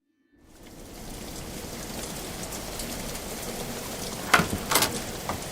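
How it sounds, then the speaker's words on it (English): The first rain of the season swells in from silence into a constant, gentle shower, its hiss holding steady with a few sharper spatters near the end. "First rain of the season."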